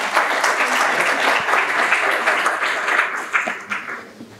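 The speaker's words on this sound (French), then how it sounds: "On peut l'applaudir" Room audience at a running-injury talk gives a round of steady, fairly loud clapping that tapers off near the end, with scattered voices underneath.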